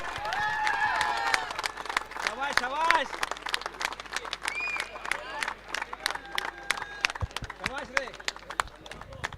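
An audience at the Masters Sports Trophy prize ceremony applauds the tournament's best batter, with scattered, uneven clapping and a few cheers running under continuous talk over an amplified microphone.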